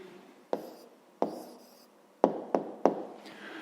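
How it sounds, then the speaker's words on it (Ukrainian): Pen strokes writing an answer by hand on paper, five sharp taps and scratches spaced irregularly, close and fairly quiet with no talking. "Ну що ж, записуємо відповідь"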